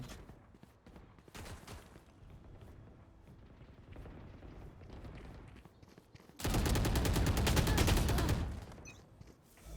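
Video game gunfire: a sustained, loud burst of rapid automatic shots hammers out for about two seconds. Scattered quieter shots and in-game sounds come before and after it.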